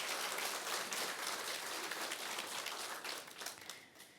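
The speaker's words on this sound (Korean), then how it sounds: "박수 한번 쳐주시고요" A church congregation claps together in a steady, dense patter that holds evenly for about four seconds and thins slightly at the end, fairly quiet and heard alone with no voices.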